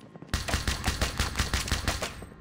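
Rapid automatic gunfire from an MSMC, a compact submachine gun like an oversized pistol, in the COD Mobile battle royale, a steady loud burst of evenly spaced shots lasting about two seconds.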